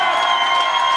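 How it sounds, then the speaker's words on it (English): Crowd applause and cheering at a live gig for The Enzymes' final show, a steady dense wash of clapping with scattered whoops filling the whole second. "I'll have a big round of applause for these two"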